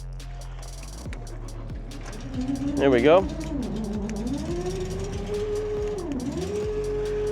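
A hydro-seeder's engine fires up beside its tank, catches with a brief revving surge, then settles into a steady, close mechanical drone; someone speaks briefly as it starts.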